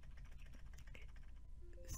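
Quiet, quick keystrokes tapping on a computer keyboard, a steady patter of light clicks close by with no talking.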